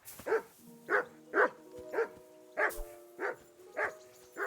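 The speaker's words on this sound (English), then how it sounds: "I assume you can hear that damn dog of yours barking." A dog in the medieval video game Kingdom Come: Deliverance 2 barks eight times at a steady, evenly spaced rhythm, clear and close, with no speech between the barks.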